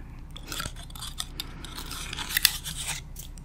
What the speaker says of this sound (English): But that is a cinnamon scented pine cone.